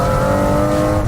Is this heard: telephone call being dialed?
no